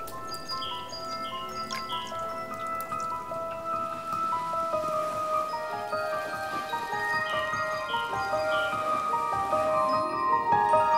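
Spring rain falls in a forest, a steady close patter of drops on leaves and ground with scattered drips, while birds call faintly in the background; no voices.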